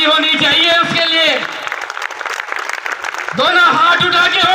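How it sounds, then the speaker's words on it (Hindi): A political rally crowd in Rampura, Kota claps and cheers in a sustained wash of applause between stretches of someone speaking loudly into a microphone. "ओम बिरला के लिए जोरदार ताली होनी चाहिए उसके लिए।"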